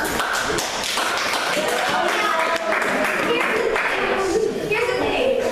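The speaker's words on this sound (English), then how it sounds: "So I'm going to give you an extra round of applause." An audience applauds actors in a steady, dense burst of clapping that fills the room, loud and continuous, with voices faintly underneath.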